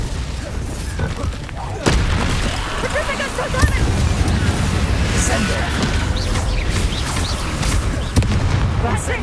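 Blasting-spell explosions in the video game Hogwarts Legacy, a dense, loud boom at about two seconds followed by continuous crackling battle noise and impacts, mixed under a voice.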